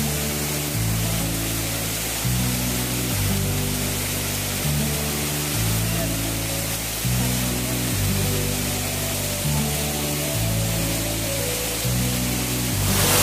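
Nhavankond waterfall near Devgad in the Konkan roars as a dense, constant rush of falling water, loud and close, with a low rumble underneath and no voices.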